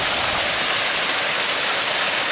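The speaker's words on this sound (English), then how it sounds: "And that's the big drop. There's several smaller falls down below it." Bonita Falls in Lytle Creek, Southern California, pours in a loud, steady, broadband roar of falling water that fills the whole moment without pause or voices.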